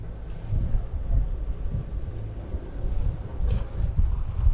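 A sailing yacht motors past Atokos island in Greece. The engine's low, continuous drone and rumble blend with wind buffeting the microphone and the wash of the sea, with no talking.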